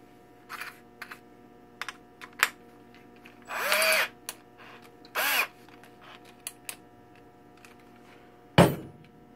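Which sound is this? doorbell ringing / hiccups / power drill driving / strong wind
power drill driving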